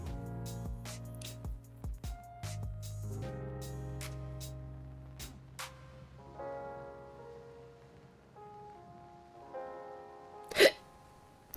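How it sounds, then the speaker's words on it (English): A person gives a single sharp, abrupt hiccup near the end, heard close and alone over faint, sustained background tones. "Darn hiccups."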